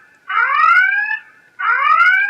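Siren-mode alarm on an X15 Max smartwatch: two loud, rising electronic wails, each about a second long, separated by a short pause, with no other sound.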